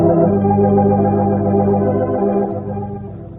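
An organ plays the Song of India in a live radio theatre broadcast, sustained chords and a melodic line sounding warm and full before the notes fade out near the end.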